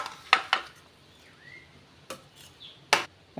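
Spinach rice with lemon juice is stirred in a pan, with a few distinct metallic clinks and scrapes of a spoon against the pan over a quiet background.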